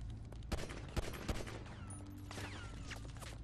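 Gunfire in the video game GTA Online, with three sharp shots near the start followed by a steady busy backdrop of game sound, all at moderate level with no talk.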